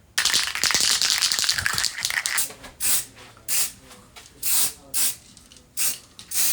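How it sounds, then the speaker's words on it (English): A spray gun sprays paint on a Moto Guzzi Mk1 motorcycle part, hissing in one long burst, then firing a series of short, evenly spaced sprays, each a sharp airy rush close by. "Okay, let's get spraying."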